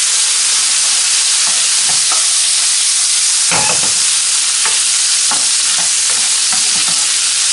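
Lamb sweetbreads fry with garlic in a pan, a loud, steady sizzle broken by repeated scraping and clattering strokes as they are stirred.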